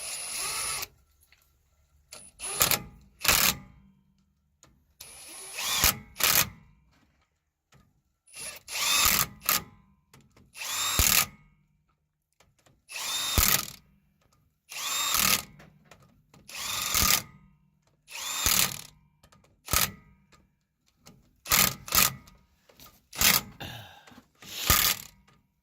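A power tool rattles in repeated short bursts while tightening the rear wheel lug bolts on a Ford F350 dually, about a dozen close, loud runs separated by brief pauses.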